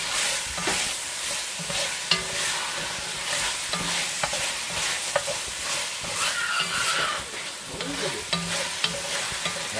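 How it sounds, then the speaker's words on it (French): Beef bourguignon stirred in a pot, with a steady sizzling bed under repeated scraping spoon strokes and small clinks over about ten seconds, close and fairly loud, with no talking. "Donc là, on mélange bien"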